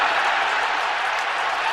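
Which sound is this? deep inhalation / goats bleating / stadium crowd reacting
stadium crowd reacting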